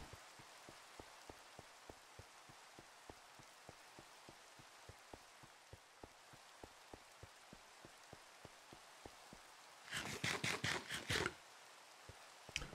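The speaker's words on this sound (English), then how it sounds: "Seeing as it's raining and getting dark" Steady rain patters in a farming video game, soft and even across the clip, joined by a regular ticking beat and a short louder clatter of hoofbeats near the end.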